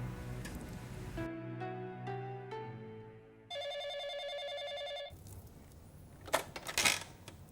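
An old-style telephone rings in an Indian TV drama scene, several electronic ring tones sounding amid musical notes, followed by clattering and rustling noises.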